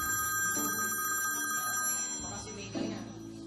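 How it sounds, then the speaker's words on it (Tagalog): A telephone bell rings continuously in a room, with a few faint voices in the background. "Rogelio, yung telepono."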